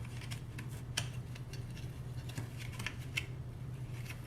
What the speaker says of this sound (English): Trim the edges.